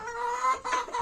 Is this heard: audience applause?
no